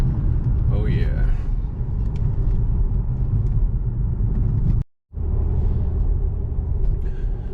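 A salvage car bought at a Copart auction on its first test drive, with a steady low road rumble and engine drone from inside the cabin, briefly cutting out for a moment before resuming; a voice talks over it.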